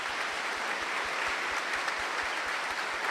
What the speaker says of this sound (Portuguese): Então, uma salva de palmas para ela.